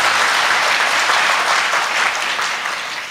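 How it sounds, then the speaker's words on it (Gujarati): An audience at a youth awareness programme applauds the event's organisers with loud, sustained clapping from a crowd. The clapping stays dense for about three seconds, then eases off slightly as it ends. "એ બદલ એકવાર તમે બધા તાળીઓ દ્વારા આ આયોજકોને વધાવો"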